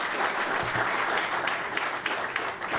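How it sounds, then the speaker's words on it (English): Audience applause at a public redevelopment project event, a steady wash of many hands clapping at close range, sustained and even for the whole stretch. "I think that deserves a round of applause"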